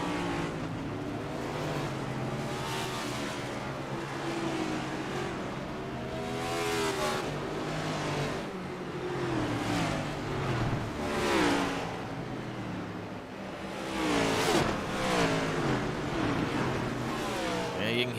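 Race cars in a racing video game idle and rev at Daytona ahead of a 90-lap race, a steady loud engine drone swelling and surging in repeated waves with no talk.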